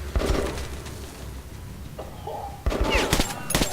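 Gunfire in Metro 2033 Redux: short bursts of shots open the clip, a quieter stretch follows, then sharper rapid shots crackle near the end.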